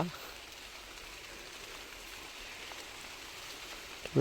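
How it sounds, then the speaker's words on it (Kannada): Steady rain falls throughout, a dense even hiss of drops on surfaces, fairly soft, with a brief louder burst right at the end. "ಈ ಮಳೆಯೋ ಬೆಳಗ್ಗೆಯಿಂದ ಎಡ್ಬಿಡ್ದಂಗೆ ಸುರಿತೈತೆ"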